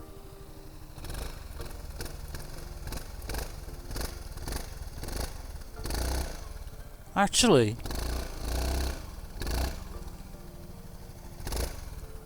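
A Honda ADV 350 scooter engine idles with a low, pulsing rumble, then revs up in several rising surges, close by, while someone talks over it.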